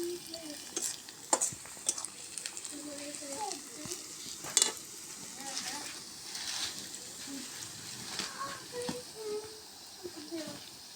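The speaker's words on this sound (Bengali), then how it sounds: "লাল লাল করে ভাজা পেঁয়াজটা হয়ে গেছে" Onions frying in a pan, cooked in a village kitchen, with a steady sizzle and repeated scraping stirs of a spatula, close and moderately loud, with a few sharp clinks and no talking.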